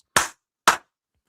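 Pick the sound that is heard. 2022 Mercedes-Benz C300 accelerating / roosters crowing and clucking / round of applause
round of applause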